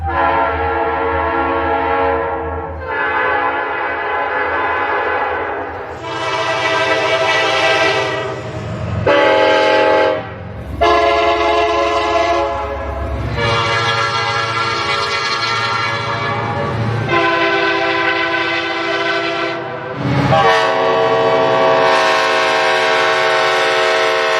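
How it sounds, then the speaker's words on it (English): A series of loud, harmonious Nathan Airchime and Leslie Controls train horn blasts, each several seconds long with short gaps, sounding one after another with varied chord tones. "railroads tried to select horns that both sounded pleasing and effective"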